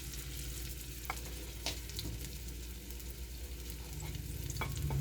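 Meatballs fry in a pan, giving a soft, steady sizzle with a few faint pops, heard fairly quietly with no speech.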